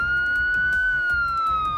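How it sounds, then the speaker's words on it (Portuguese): A police siren sounds loud and close in a regional TV news segment in Rio Grande do Sul, wailing steadily under a rapid pulsing rhythm, with no talking over it. "Chama a sirene do André"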